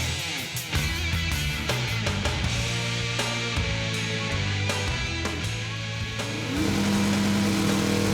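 A 1968 Six Pack Barracuda does a burnout at a drag race, its engine roaring loud and close with repeated revs and gear-like steps in pitch, then rising to a sustained higher howl near the end.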